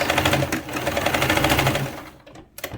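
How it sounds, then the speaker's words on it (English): A sewing machine backstitches at the end of a seam on a puff-sleeve T-shirt, with a rapid, close, mechanical rattle that runs steadily for about two seconds, then stops abruptly, followed by a brief click. "When you get to the end, backstitch"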